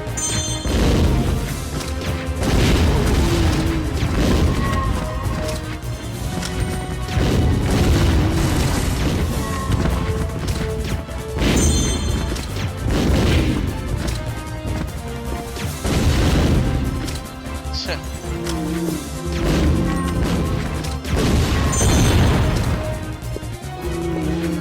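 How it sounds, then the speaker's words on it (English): Grenade launcher explosions from Resident Evil Survivor 2 boom repeatedly, heavy blasts with crashing debris landing every few seconds, loud and continuous over about twenty-five seconds. "powerful explosive weapon, no doubt, and could get multiple targets with all that scattering"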